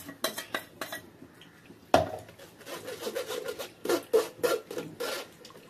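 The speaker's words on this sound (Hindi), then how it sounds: "अब उसके छन्नी की मदद से उसको अच्छे से हमने छान लेना" Ground crab legs pushed and scraped through a metal sieve for a fine puree, giving repeated clinks and scraping rubs of utensil against mesh and bowl, with one sharper knock, close and moderately loud.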